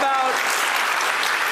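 Crowd at a televised town-hall event applauds for jobs and the economy, a continuous, even wash of many hands clapping, loud and close, with a voice faintly mixed underneath.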